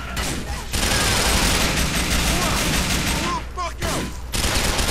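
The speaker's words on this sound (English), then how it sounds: "this machine gun actually does damage" Sustained automatic gunfire from a machine gun in the video game GTA IV: The Ballad of Gay Tony, loud and continuous with dense rapid bursts, brief lulls and a busy shootout texture; no talk over it.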